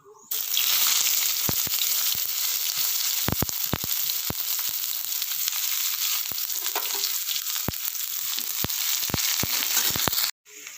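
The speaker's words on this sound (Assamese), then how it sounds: "এতিয়া মই ইয়াত পিঁয়াজ দিম।" Onion frying in a hot pan, a loud continuous sizzle with occasional sharp crackles and pops, steady throughout and cutting off abruptly near the end.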